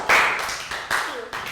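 A Year 3 maths class gives a pupil a quick round of applause, a few scattered sharp claps close by in a classroom, with a brief voice in between.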